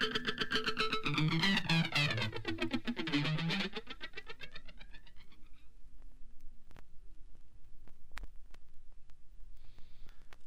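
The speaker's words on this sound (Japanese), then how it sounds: "フランジャーを使ってジェットマシンみたいな音も作れます。" Guitar run through a flanger effect producing a jet-like whoosh: sweeping comb-filtered tones rise and fall over sustained notes for about four seconds, then fade into quieter hum with a few sharp clicks.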